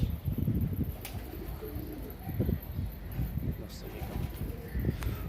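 Kabli pigeons coo softly in low, rolling calls, repeated throughout amid steady background noise and rustling.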